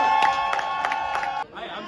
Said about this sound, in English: Everyone give a loud round of applause for my man Mosh.